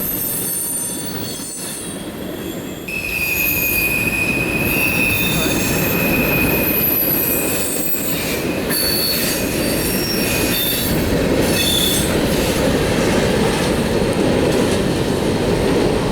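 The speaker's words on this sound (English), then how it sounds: "As soon as the train ran on through" Rail cars of a train roll past on the Western Maryland line, loud and close, with a continuous rumble and shrill wheel squeals rising and fading over it.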